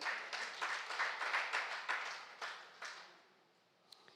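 A church congregation at a Friday worship service bursts into applause that quickly thins and fades to near silence within a few seconds.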